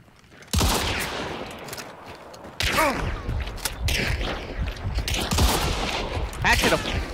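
Gunfire in Hunt: Showdown, a loud opening shot followed by several sharp, spaced reports and a rapid burst near the end, with game ambience and some voice underneath.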